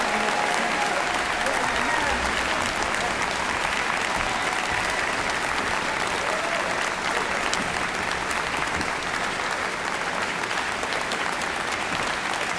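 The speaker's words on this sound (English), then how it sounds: "How about one really super Buffalo round of applause for all of our inductees for the class of" Sustained audience applause at a Buffalo Hall of Fame induction ceremony for the class of 2014, a dense, steady roar of many hands clapping continuously throughout without pause.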